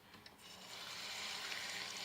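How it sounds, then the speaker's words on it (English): Faucet water running over bamboo shoots in a sink, a soft hiss that rises and steadies into a continuous faint splashing stream. "run them under the faucet, under the water."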